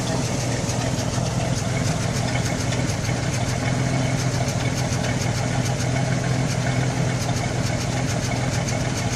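A carbureted engine in a 1980 Chevrolet El Camino runs steadily while warming up, a loud, continuous rough idle rumble with a dense, unbroken texture and no talk over it.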